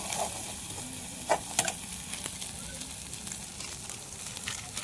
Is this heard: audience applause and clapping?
no